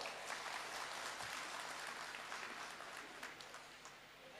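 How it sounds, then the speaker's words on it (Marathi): Applause from an audience at a conference of a long-running organisation, a continuous, even patter of many hands, faint and distant, with no talking over it. "म्हणून स्वतःसाठी टाळ्या वाजवा"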